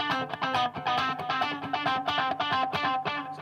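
An electric guitar runs through a delay pedal set for a rhythmic ticking repeat effect, bright chords echoing in quick pulsing repeats, played alone at moderate volume.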